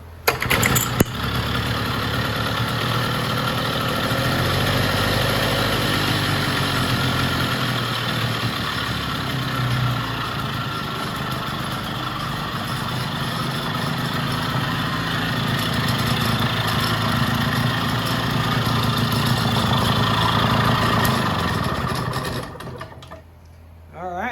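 A vintage Jacobsen greens mower's small engine catches after a couple of pulls and settles into a steady, loud, continuous running drone close by, then cuts off near the end.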